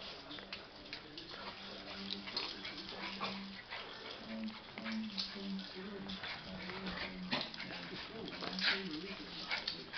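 An excited puppy at breakfast time whimpers and yips repeatedly indoors, close and intermittent, mixed with ticking and a person talking over it.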